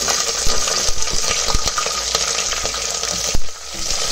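Green chillies frying in hot oil with bay leaf, cloves and kasuri methi for masala chitranna, a steady loud sizzle with a few scraping stirs and a sharp clink near the end.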